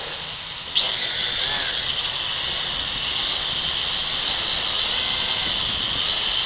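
Parrot Bebop drone motors spinning up with a sudden onset, then holding a steady high-pitched whirring whine with hiss, close and continuous.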